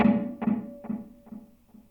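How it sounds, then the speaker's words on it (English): Electric guitar with a straight quarter note delay effect: a single plucked note followed by evenly spaced echoes repeating about four times, each fainter than the last, alone and close. "straight quarter note, which would be like this."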